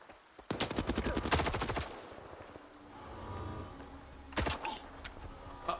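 Video game gunfire: a rapid automatic burst lasts over a second, followed later by a shorter volley, with quieter ambient rumble between the shots.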